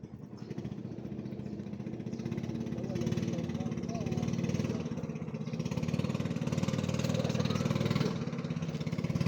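A motorized boat engine on a river chugs steadily, a continuous low droning hum held at constant level throughout.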